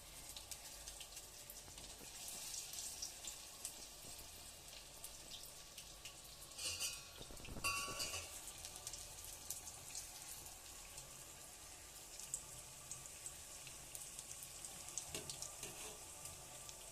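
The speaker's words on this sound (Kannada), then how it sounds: "ನೋಡ್ರಿ ಇನ್ನೂ ಸ್ವಲ್ಪ ಫ್ರೈ ಆಗಬೇಕು." Large mung bean vadas fry in hot oil, a steady soft sizzle and crackle running throughout at low level, with a brief louder bubbling burst midway and no voices.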